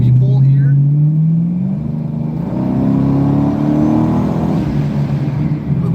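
A car engine revs under load during a short dyno pull, with a loud, steady drone and rising harmonics that climb and hold across the whole stretch.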